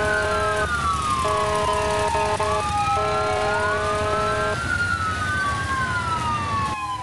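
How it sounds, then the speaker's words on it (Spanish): Several police patrol car sirens wail together in a caravan, overlapping rising and falling tones with stepped electronic yelps, loud and continuous throughout with no voices. "Esta vez las sirenas de las patrullas sonaron para atraer a los pequeñitos y entregarles un juguete."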